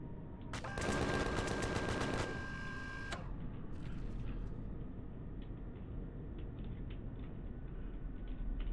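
Rapid automatic gunfire aimed at golems in Empyrion, a fast even burst of sharp mechanical shots lasting a couple of seconds, then a few scattered clicks over a quiet, steady hum.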